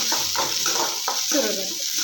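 Chana dal frying in a pan as it browns, a steady sizzle with several scraping stir strokes spread across the moment, close and fairly quiet, no voices.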